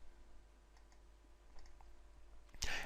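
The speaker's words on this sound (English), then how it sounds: "double-click the file name" A computer mouse double-clicks on a file name in a Windows folder: faint, quick paired clicks in a quiet room, followed by a louder burst of sound at the very end.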